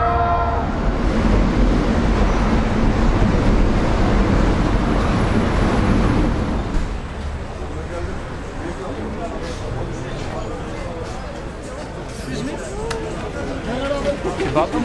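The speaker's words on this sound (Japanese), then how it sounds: "乗ったのはメトロなんですけどね、まあ、地下鉄なんですけど" An Istanbul metro train rumbles loudly and steadily, the roar easing after a few seconds as it runs on, with people talking faintly over it.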